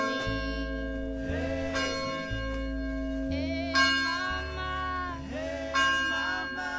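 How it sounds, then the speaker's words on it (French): Church bells ring at noon in a French town, a sustained series of overlapping metallic peals with long resonant tones, steady and fairly loud, heard over a low engine-like hum. "Quand j'arrive quelque part, il est midi et les cloches sonnent."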